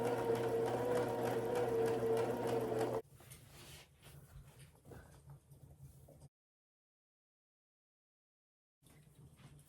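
A sewing machine hems the sides of a piece of fabric, running in a steady loud whir for about three seconds, then softer intermittent stitching bursts, followed by silence and a brief resumption near the end.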